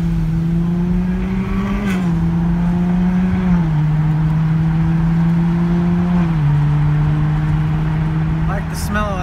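Ferrari supercar with a twin-turbo V8 idling and cruising nearby, a steady low engine drone that shifts pitch in a few steps, with people talking over it.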